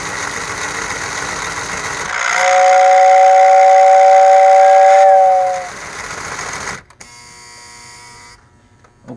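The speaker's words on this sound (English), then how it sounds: "there's a whistle in the tender" A model train engine's steam whistle blows one long, steady, fairly loud tone for several seconds, over a mechanical hum, then fades into clicking and buzzing.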